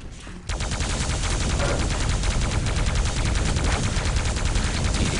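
Plasma gun in the video game Quake Live firing in a rapid, sustained stream during a team deathmatch, a dense run of fast repeated shots that begins abruptly after a brief quieter lead-in and continues loud throughout.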